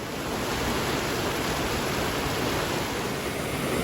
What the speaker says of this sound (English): The river is definitely roaring.